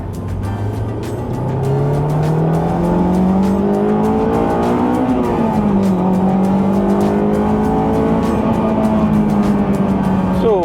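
Honda S2000 AP2 engine revving hard on a straight road, pitch climbing steadily through the gears as VTEC engages, with a brief dip at a shift midway; loud, sustained and close throughout.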